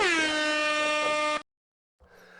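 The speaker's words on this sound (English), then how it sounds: "I'm just getting the air horn up here" A loud air horn blares steadily for about a second and a half during a live podcast show, then cuts off to silence before faint room noise returns.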